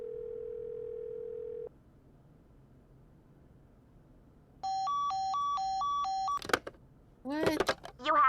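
A steady dial tone cuts off, then a quick string of alternating keypad tones sounds on a phone in the Nancy Drew: The Secret of the Scarlet Hand video game, followed by a brief synthetic voice prompt.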